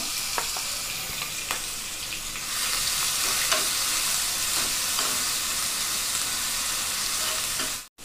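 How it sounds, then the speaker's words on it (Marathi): Cumin seeds and crushed green chilli sizzle steadily in hot oil in a pan, a continuous bright frying hiss that swells louder partway through, with a few small clicks, then cuts off abruptly at the end. "जिरे छान फुलत आहेत."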